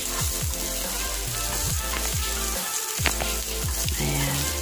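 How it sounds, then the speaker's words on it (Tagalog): Garlic sizzles steadily in hot cooking oil, a loud continuous crackle and hiss with a few sharper pops and clinks of utensils, heard up close without talking. "mainit na yung ating mantika. Lalagay ko na po yung bawang."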